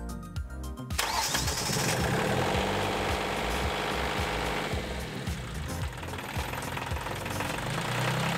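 A sailboat's engine starting for maintenance before an oil change: a short cranking whirr, then the engine catches and runs loud and steady with a rapid knocking, chugging beat that continues to the end.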